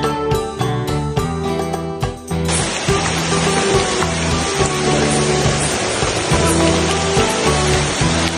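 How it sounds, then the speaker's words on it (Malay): Heavy rain pours down in a dense, loud hiss that starts abruptly and continues steadily, layered over rhythmic background music. "Hujan, ya Allah."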